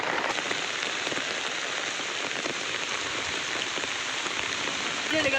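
Heavy rain drums steadily and densely on a tent close by during a thunderstorm, an unbroken pattering roar with no voices.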